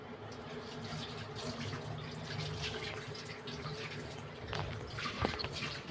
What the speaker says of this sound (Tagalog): ganyan ang paghugas ng dahon